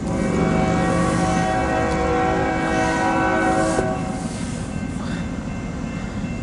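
A Norfolk Southern 202 intermodal freight train rolls past southbound, its loud, steady rumble filling the whole stretch, with a sustained horn blast at the start and faint wheel clatter as it recedes slightly.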